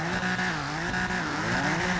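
An Audi RS5 in GTA 5 squeals its tires with a sustained, wavering engine drone underneath, loud and close for about two seconds, no talking.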